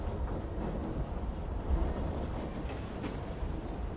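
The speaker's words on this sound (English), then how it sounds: "the train's turning too much." A train rolls along steadily in a video game, a low, continuous rumble with faint clatter that stays quiet and even throughout.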